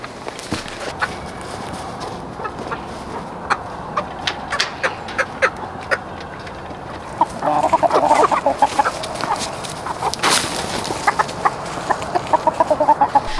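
Meat chickens cluck and mutter inside a tarped farm tractor pen on a cold morning, frequent short close calls scattered throughout, growing busier and denser in the second half.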